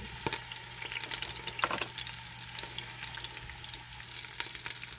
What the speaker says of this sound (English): Of course, we're gonna put onions.